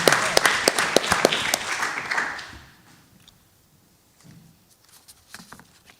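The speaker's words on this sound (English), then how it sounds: "Let's again give them a round of applause and let's get a photo." Audience applause at a school district board meeting, a burst of many hands clapping for about two and a half seconds before fading out, followed by faint murmurs and scattered sounds.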